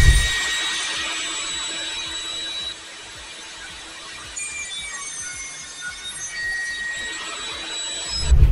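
A table saw with a jig cuts tenon slots in wood, a continuous loud whining roar that dips briefly midway and swells again toward the end, with no voices.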